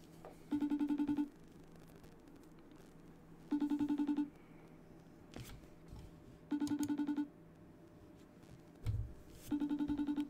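Outgoing call ringback tone, repeated ring bursts at a steady interval with quiet gaps between, faint and distant, with a few small knocks in the pauses.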